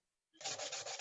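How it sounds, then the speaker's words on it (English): Close, steady sanding of wood, a rough rasping scrape with rhythmic back-and-forth strokes that starts abruptly after a moment of silence. "Are you sanding, Ryan?"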